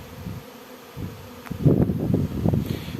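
A bee swarm buzzes around a hive, a close, wavering hum that swells and thickens in its second half as many insects fly past, with no talk.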